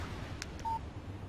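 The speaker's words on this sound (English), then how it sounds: "Text message from Barry." A phone in the Alan Wake video game gives a short text message alert. It is a brief, clean electronic tone, preceded by two faint soft blips, over a quiet room-tone background.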